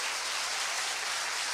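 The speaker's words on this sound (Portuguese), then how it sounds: "vamos aplaudir ao Senhor pela equipe de louvor" A church congregation applauds together during a worship service, a steady, dense wash of clapping that stays at an even level throughout without gaps.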